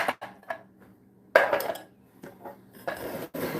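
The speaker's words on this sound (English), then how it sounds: "I'm going to put them over a bowl and press them to strain them." Canned 8-ounce crushed pineapple being pressed in a strainer over a bowl, with a few clinks and scrapes of utensil against metal and bowl in short bursts, close and moderately loud, no talking.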